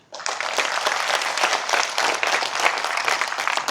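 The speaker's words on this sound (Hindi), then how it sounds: "ताली बजा।" Steady, loud applause from a large crowd at a lecture, starting abruptly and continuing evenly throughout.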